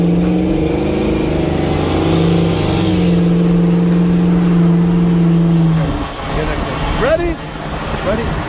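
A car engine in a street race holds a steady loud drone while rolling, then the note shifts and rises as it accelerates. Voices talk over it.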